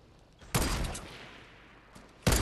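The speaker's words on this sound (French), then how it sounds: "Fais gaffe, il nous tire dessus." Gunfire in the video game Fortnite during a 2v2 battle royale fight: two sharp, loud bursts of shots, one near the start and one at the end, with a fading tail between them.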